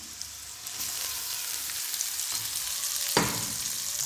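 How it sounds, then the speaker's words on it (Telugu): Leftover cooked rice for egg fried rice sizzles steadily in a hot pan, a continuous close frying hiss with a sharper stir or scrape near the end; no talking. "ఇప్పుడు మనం అన్నం అయితే వేసేసుకుందాము."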